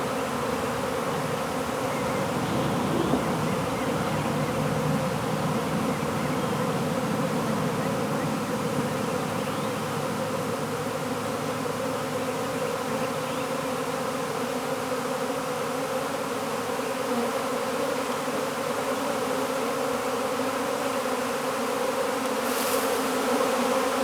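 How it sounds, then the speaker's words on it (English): Bees swarming around a captured beehive, a dense continuous buzzing drone that stays loud and steady throughout with no talking. "That, children, is how you capture a beehive."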